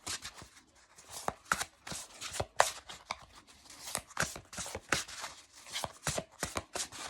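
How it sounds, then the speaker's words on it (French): A large deck of oracle cards is shuffled by hand, giving a rapid irregular series of sharp riffling flicks and snaps close by, with no speech. "c'est un grand jeu, mais vous voyez, j'arrive à brasser."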